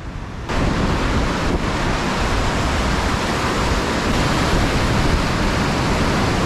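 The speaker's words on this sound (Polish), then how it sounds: "Ale wieje!" Strong wind gusting outdoors at a canyon, a loud, steady roar buffeting the microphone from start to finish with no break.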